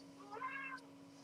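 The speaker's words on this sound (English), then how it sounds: "Yeah, the cat's bored." A house cat gives a single short meow indoors, faint and alone over a steady low hum.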